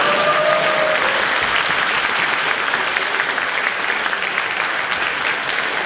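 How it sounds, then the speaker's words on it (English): A live Q&A audience breaks into loud, sustained applause, a dense wash of clapping that continues steadily throughout without pause. "let's give it up for Mike"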